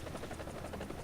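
Helicopter rotor in a combat flight video game chops steadily and evenly, a continuous droning whir with no talk over it.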